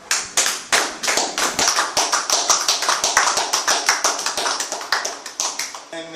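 Church congregation applauding together in praise, a dense, fast run of close hand claps that keeps a lively steady rhythm for several seconds before thinning out near the end.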